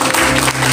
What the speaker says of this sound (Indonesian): Berikan tepuk tangan paling meriah.